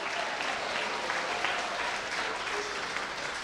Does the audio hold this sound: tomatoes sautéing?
no